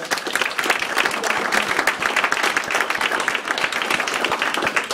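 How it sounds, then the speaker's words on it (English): An audience applauds a school cross country team at an awards event, with loud, close, sustained clapping and sharp individual claps throughout. "they all deserve a great round of applause"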